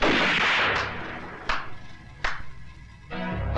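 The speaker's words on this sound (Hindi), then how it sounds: "हवा में गोलियां चलाने से कुछ नहीं होगा" Several sharp shots fired into the air in a Bollywood action film, about three distinct bangs spaced roughly a second apart, each a loud crack with a short decay, over a background of music or ambience.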